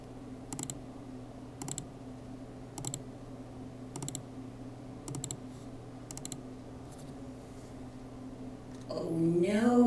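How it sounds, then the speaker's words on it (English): Short bursts of computer clicking repeat about once a second over a faint steady hum, then a voice rises at the end. "Sorry about all the clicking noises"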